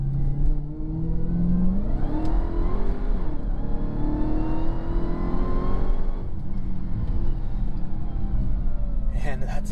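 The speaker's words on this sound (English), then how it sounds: "The dominating experience in here, of course, is this insane engine, and I love that supercharger whine that you get too" Supercharged Dodge Charger Hellcat 797 hp engine revving on a short straightaway, a loud continuous drone rising and falling in pitch with a steady whine layered on top, heard from inside the cabin throughout.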